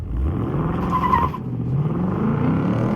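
A 2025 Ford Mustang GT launches on warm tires, which squeal and skid loudly as traction control cuts in, then the engine note drops and carries on alone.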